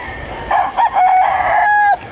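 Gamecock rooster crowing close by, one loud drawn-out cock-a-doodle-doo lasting about a second and a half, alone without talk.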